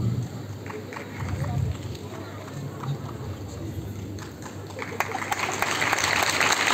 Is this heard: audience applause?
yes